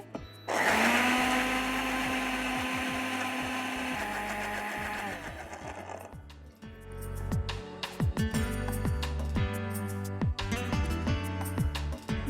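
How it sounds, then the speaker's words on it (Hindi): An electric blender whirring through a milk shake of milk and other ingredients made for children: a loud, close, steady motor whine that drops and shifts as the jug contents churn, then rattles and clunks, with no voices. "अब हम इसको ब्लेंड कर लेंगे।"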